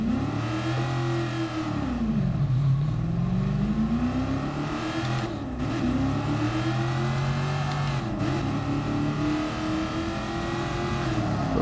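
A 1966 Shelby Cobra 427 in GT Sport, its big V8 revving hard through a four-speed gearbox, pitch swooping up and dipping at shifts in a loud, continuous engine roar with no talk.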